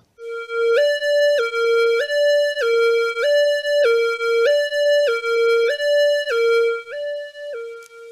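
Ambulance siren sound effect on a Casio SA-20 keyboard, a synthetic two-tone hi-lo wail alternating steadily between two pitches about a dozen times, loud and close, with no talking.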